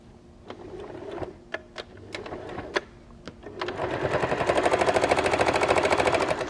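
A sewing machine stitches through two layers of quilt wadding for a microwave potato bag: a few sharp clicks and short bursts first, then a steady, fairly loud run of rapid rhythmic needle strokes to the end.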